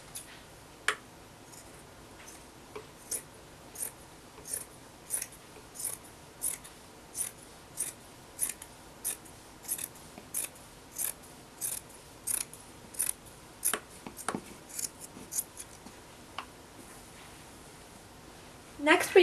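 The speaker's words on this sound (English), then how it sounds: "you're going to cut from underneath this armhole to underneath this armhole" Scissors cut straight across a shirt from under one armhole to the other while making a simple nightgown, giving a steady run of about two dozen crisp, close snips at an even pace, heard alone.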